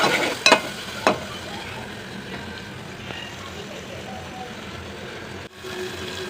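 Onion, tomato, green chilies, curry leaves and turmeric fry in a pan for chicken curry, giving a steady sizzle with a couple of scraping stirs at the start and a short clatter near the end.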